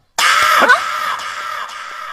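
A woman lets out a loud, sustained scream that wavers and slowly fades, close and alone with no other sounds.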